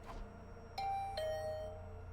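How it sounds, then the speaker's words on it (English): Doorbell chime in The Hundred Line: Last Defense Academy, two clear electronic ding-dong tones ringing out one after the other and fading over quiet room tone, with no speech. "The bell rang."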